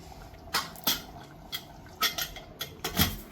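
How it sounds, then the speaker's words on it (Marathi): A metal lid is fitted onto a pressure cooker in a kitchen, giving several sharp, close metallic clanks and scrapes in an irregular sequence, with no talking. "कुकरचं झाकून लावून घेत आहे मी"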